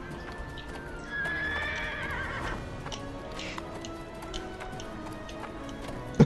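A horse neighs in the Neverwinter video game, a clear whinny early on followed by a light clip-clop of hooves and small ticking effects, ending in a sharp short knock, with no speech.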